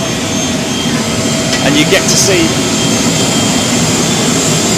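Loud, steady roar of an Emirates Boeing 777 jet engine running on the ground, heard from close by behind the engine, with someone talking over the continuous noise.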